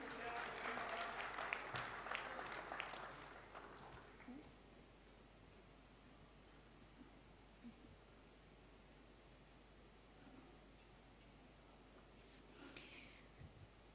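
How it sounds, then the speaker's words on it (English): Audience applause at a steel industry conclave, loud dense clapping for the first few seconds that fades into a quiet hall with light rustling and scattered faint sounds. "Let's again have a huge round of applause for them"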